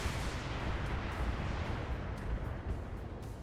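A mech's missile salvo in the BattleTech video game, heard as a dense, continuous rumbling roar of launches and blasts at fairly loud, even level throughout.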